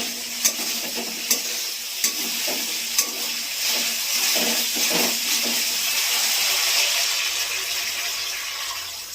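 Water poured onto well-fried spice masala in a pan for rui fish kalia, a few sharp clicks followed by a loud, sustained sizzling hiss and bubbling that swells and lingers close by, with no talking.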